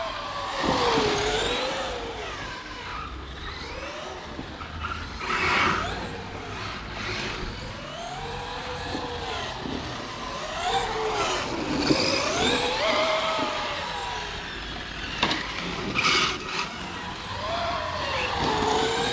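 A Traxxas X-Maxx RC truck running on 4S batteries at a stadium track whines as it accelerates and corners, its motor pitch sweeping up and down repeatedly at mid distance with no voices.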